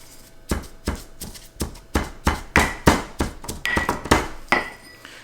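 A mortar and pestle pounds fresh herbs, about a dozen sharp, close strikes in a steady rhythm, each with a brief ringing knock from the bowl.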